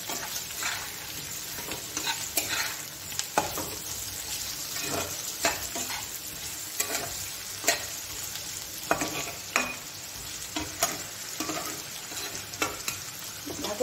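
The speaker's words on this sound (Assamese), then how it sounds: "পিঁয়াজখিনি ভালদৰে ফ্ৰাই হৈ গৈছে।" Sliced onions and potatoes fry in a pan, a steady sizzle broken by frequent scraping stirs and clacks of a spoon against the metal, close and continuous with no voices.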